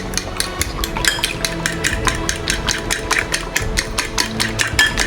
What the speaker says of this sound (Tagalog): Siyempre, haluin ko muna ang yan.